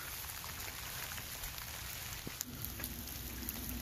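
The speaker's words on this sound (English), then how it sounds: "Well, the rain's not stopping." Steady rain falls outdoors beside water, a continuous dense hiss of drops close around the listener, with a few sharper taps on a nearby surface and no talking.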